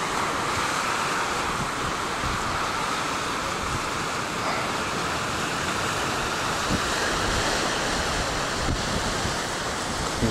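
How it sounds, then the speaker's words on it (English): Surf rolls onto the volcanic-sand beach at Patea, New Zealand, as a constant broad wash of waves mixed with steady wind buffeting the microphone, with no voices. "This is the beach at Patea."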